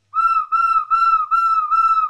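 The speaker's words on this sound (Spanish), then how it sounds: "Es un silbato bifonal" A two-tone ceramic whistle from the pre-Columbian Bahía culture is blown in five sustained, clear pulses, each a steady pure tone with a slight waver, loud and close, with no voices.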